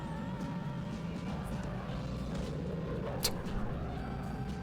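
Car engines in the Go Vacation video game drone steadily at a constant pitch, with game music faintly underneath and one brief sharp high effect midway.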